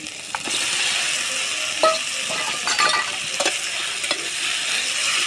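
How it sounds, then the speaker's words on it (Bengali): Chicken sizzles and fries in a pan with spice paste and turmeric for a gourd chicken curry, under a steady hiss, with occasional scraping and clinks of a spoon stirring. "দশ মিনিট ধরে কষানো হয়ে গেলে দিয়ে দিচ্ছি চিকেন"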